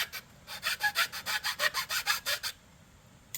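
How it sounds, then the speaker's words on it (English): A chainsaw file rasps back and forth over the nocks of a thin-strip bamboo bow, about a dozen quick, even strokes in steady rhythm, close and clear, then the filing stops. "using a chainsaw file"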